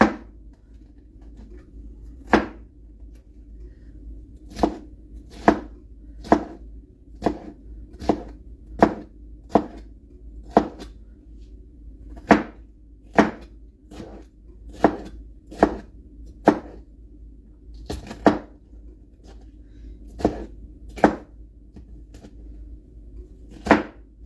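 A knife chops vegetables for a rainbow salad on a board, sending out a steady run of sharp, close thuds at roughly even intervals over a low background hum, with no talk.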